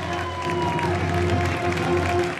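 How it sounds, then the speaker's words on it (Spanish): Crowd applause at a CD Leganés football club presentation during the Fiestas de Nuestra Señora de Butarque, a steady broadband wash of clapping that fills the whole stretch at even loudness, with a low hum beneath it. "¡Un buen aplauso!"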